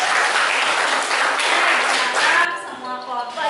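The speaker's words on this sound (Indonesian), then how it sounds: "Kita beri tepuk tangan untuk kelompok 1." Classroom of students applauding group 1, a dense burst of clapping for about two and a half seconds that then thins out and fades, with a voice speaking over the tail.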